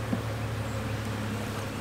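Honey bees from an open hive drone steadily during a single-brood hive inspection, a dense, even buzz that holds close and strong throughout.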